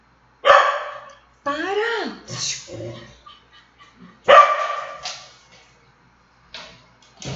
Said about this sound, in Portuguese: Hoje as cachorras estão meio alvoroçadas aqui, gente.